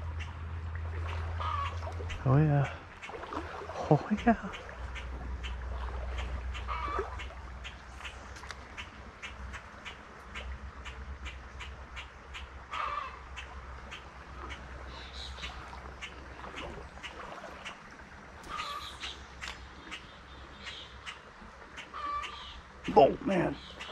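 Chicken-like clucking from a bird near a woodland trout creek, faint and distant over a steady rush of flowing water, with a few scattered calls and brief quiet talk.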